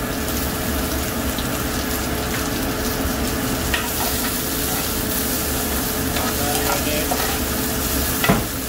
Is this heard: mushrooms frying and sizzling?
yes